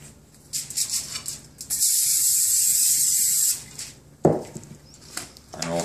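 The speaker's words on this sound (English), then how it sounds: "And then we'll spray that with the Pam spray oil." A can of Pam cooking oil spray sprays in one steady hiss lasting about two seconds, with quiet clattering and handling noises before and after.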